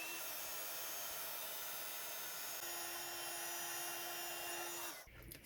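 Steady broadband whoosh of a heat tool blowing as it melts Primary Ebony Superfine embossing powder on a card, a constant airy hum with a faint tone, cutting off near the end.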